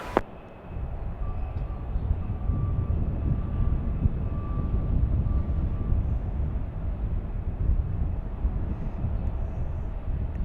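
A SkyWest jet departing runway 34 left gives a steady, loud broadband roar that holds for about ten seconds after an abrupt start, its low rumble dominating with a faint high whine above.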